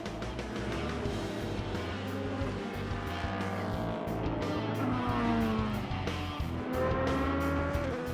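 Endurance race cars, including a Porsche 919 Hybrid, racing at the FIA WEC six-hour round in Texas, with continuous engine drone and shifting pitch sweeps as cars pass, loud and dense throughout.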